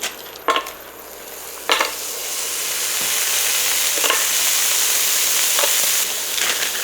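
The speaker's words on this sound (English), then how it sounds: "I'm going to get some sausage cooked up" Sausages frying on an induction cooktop griddle, a steady sizzle that grows fuller over several seconds, broken by a few clinks and scrapes of a utensil turning the meat.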